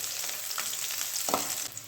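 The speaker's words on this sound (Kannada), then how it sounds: "ತರಕಾರಿ ಹಾಕ್ತಾಯಿದ್ದೀನಿ, ಕ್ಯಾರೆಟು ಮತ್ತು ಕ್ಯಾಪ್ಸಿಕಮ್ನ." Chilli, sliced onion, carrot and capsicum frying in a pan, giving a steady close sizzle with a couple of brief stir scrapes, and no voices.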